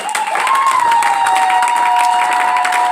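A church congregation applauds and cheers for Jesus at a Christian service, a steady, loud wash of clapping and crowd voices with a sustained tone running through it, all continuous without pause.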